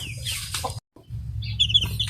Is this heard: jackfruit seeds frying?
no